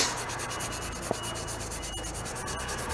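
A Scotch-Brite pad scrubs a plastic mold part in rapid, rhythmic back-and-forth rasping strokes, close and steady throughout, with one small knock partway through.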